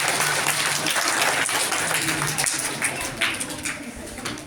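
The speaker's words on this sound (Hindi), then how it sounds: "तालियां भाई बच्चों के लिए" An audience applauds for children receiving prizes at an annual prize distribution ceremony at a madrasa, a dense, steady wash of clapping running the whole time with faint crowd murmur beneath.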